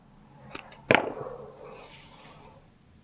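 Scissors snip through stretched fabric strips cut from recycled material, giving two or three quick close crisp clicks followed by a softer brushing rustle as the strips shift, with no talk.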